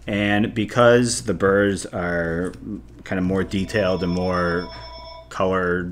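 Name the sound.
telephone ringing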